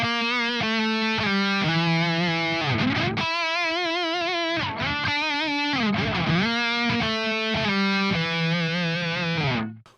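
Heavily distorted electric guitar through a Fat Blob amp simulator plays a lick, a rapid run of picked notes with wavering bends and slides, loud and continuous before cutting off at the end.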